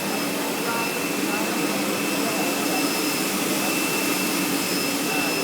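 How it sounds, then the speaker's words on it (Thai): Factory machinery running on a wire-drawing line that thins electrical wire, a loud, steady broadband roar with thin high whining tones held throughout, no break or change. "ก็เป็นบรรยากาศของเครื่องจักรที่กำลังทำงาน"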